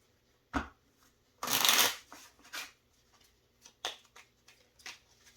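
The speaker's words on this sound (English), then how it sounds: "Okay, good and shuffled." A deck of cards for the board game Ten Plagues being shuffled, with a long riffling burst followed by several short taps and squared-up flicks, close and clear with no talking.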